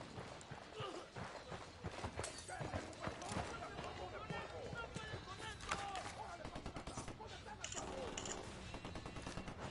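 Gunfire erupts in Ghost Recon Wildlands, a dense run of rapid shots and bursts through the whole stretch, mixed with game effects and a busy background; no clear talk over it.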